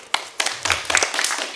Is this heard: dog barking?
no